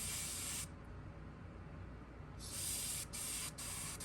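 Soft, steady airbrush hiss spraying paint, close by, broken by a pause in the middle and a couple of brief cutoffs near the end.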